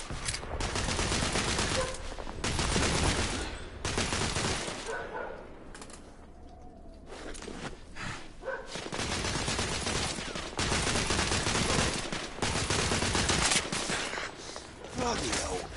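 Dense volleys of gunfire in the video game The Order: 1886, loud and near, with sustained automatic bursts, a brief lull midway, then heavy firing resuming, while voices shout in between.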